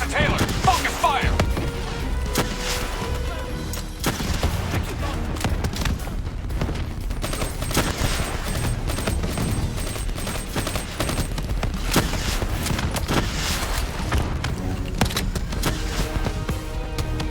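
Sustained gunfire rattles through a Call of Duty: Black Ops 3 firefight, with continuous automatic bursts, booming impacts and shouted voices mixed in throughout.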